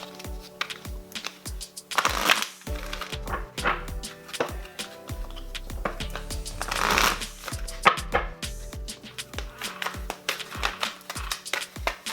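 Tarot card decks being shuffled by hand close up, with repeated rhythmic riffles and flutters, sharp taps as cards are squared, and a couple of louder bursts of riffling.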